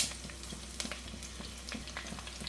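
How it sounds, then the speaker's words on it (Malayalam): Shallots sizzling in hot coconut oil in a clay pot, a soft steady crackle with scattered small pops throughout, close and fairly quiet with no talking. "വെളിച്ചെണ്ണ നന്നായിട്ടൊന്ന് ചൂടായിട്ട് വരുമ്പോൾ ഇതിലേക്കൊരു 30 ചെറിയുള്ളി മുറിച്ചതാണ് ഇട്ട് കൊടുക്കുന്നത്."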